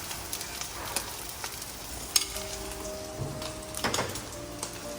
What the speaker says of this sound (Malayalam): ഫൈനലി ഇതിനകത്ത് അല്പം ഗീ ആഡ് ചെയ്യുന്നു സൈഡിൽ കൂടെ